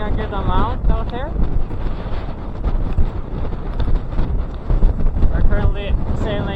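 Strong wind roars steadily across a sailboat at sea while sailing reefed, a continuous loud rushing buffet over the microphone as people talk.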